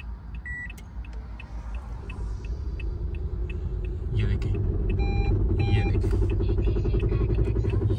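Car engine started after a check-engine light, running with a slight vibration at night on a highway, a steady low rumble that grows louder midway, with intermittent beeping chimes above it.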